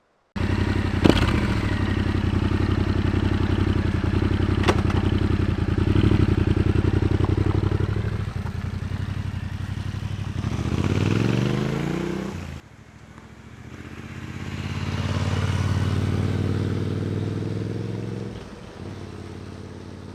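A motorcycle fitted with a Mivv Dakar High exhaust in silent mode passes by in low gear, a steady engine drone building, fading and returning close.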